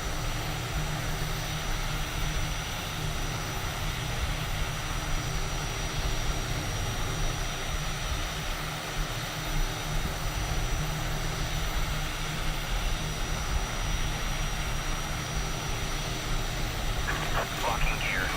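A Summit Air ATR 72-600 pushes back in Microsoft Flight Simulator, its engine and propeller hum a steady broad drone that holds the whole time, with a person speaking over it.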